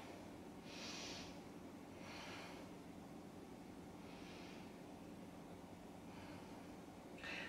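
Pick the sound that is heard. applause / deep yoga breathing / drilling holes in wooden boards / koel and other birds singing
deep yoga breathing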